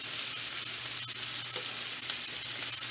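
Shredded cabbage cooks down in a small pan with a steady, close hiss of sizzling and frying, with faint soft stirring clicks against the pan and no talk.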